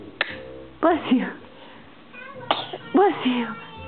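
Two sharp sneezes ring out close by, each quickly followed by someone speaking in a soft, high voice, in a quiet indoor room.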